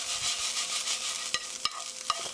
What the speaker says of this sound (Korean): 이렇게 빠르게 볶아주세요. 이렇게 젓가락으로